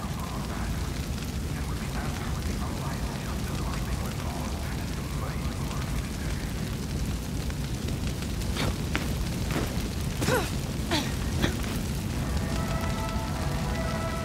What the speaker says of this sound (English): Is there any way to like get rid of the fire?